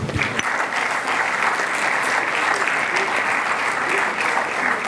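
Students applauding at a school knowledge session, a steady dense wash of clapping from a group that carries on evenly throughout, with a sharper burst at the start.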